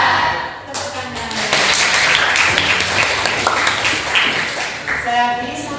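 A school class claps its hands together in a lively burst of many small hands, with voices talking and shouting over the clapping throughout.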